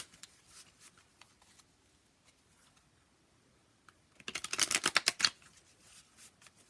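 Tarot cards are drawn and shuffled from a deck in a quiet room: a few soft card flicks at first, then a dense, louder burst of snapping, riffling shuffles near the close.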